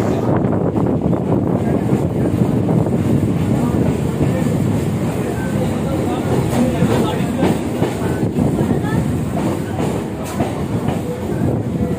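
A nearly empty suburban passenger train heading toward Lakshmikantapur rumbles along the rails with a continuous clatter, heard from inside the carriage at steady loudness.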